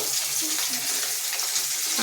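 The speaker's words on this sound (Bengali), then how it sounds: "মাছ ভাজা" Fish frying in a pan in a home kitchen, a continuous close hiss and sizzle of hot oil running steadily through the moment with no voices.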